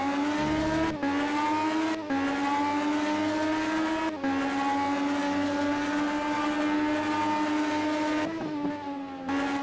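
Racing car engine in a Grand Prix style racing video game, loud and sustained, revving high and accelerating with brief drops at gear changes, heard close and alone without talk.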